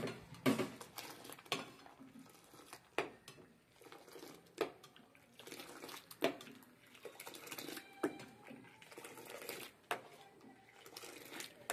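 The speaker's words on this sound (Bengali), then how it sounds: "ততক্ষণ আমি দুধটা এরকম নাড়তে থাকবো।" Milk being stirred in a pot for rasmalai, with a spoon scraping and clinking against the metal in a steady, irregular rhythm of sharp knocks, close by with no voices.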